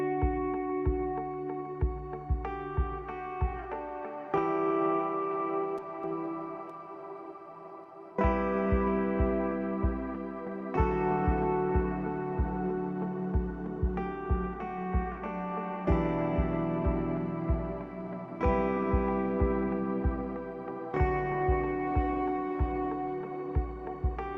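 A minimal, emotional guitar cue drenched in heavy reverb and echo, sustained chords ringing in repeated phrases with soft plucked attacks and long washy tails, no voices over it.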